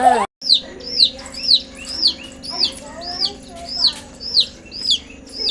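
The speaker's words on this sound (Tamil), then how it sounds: "கோழி குஞ்சியா" Chicks chirp in a steady series of high, repeated peeps, about two per second, over a low background hum.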